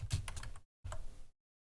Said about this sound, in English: I'm just going to type in here my web page.